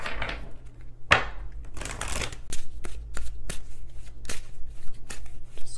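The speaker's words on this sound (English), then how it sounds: "If I could shuffle, that would be great." Oracle cards being shuffled by hand at close range, a sharp riffle followed by a run of crisp flicking and tapping clicks in an uneven rhythm, with no talk over them.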